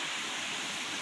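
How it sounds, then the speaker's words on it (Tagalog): Steady rain falling in the afternoon, an even, close hiss of drops with no voices, holding constant throughout the short stretch. "Hinay na ang ulan."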